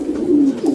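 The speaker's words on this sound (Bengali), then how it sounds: "এখন তার খামারে ২০০ জোড়ার বেশি কবুতর।" Pigeons on a pigeon farm in Natore, Bangladesh, give a short, close, low cooing call, continuous and fairly loud over a brief moment.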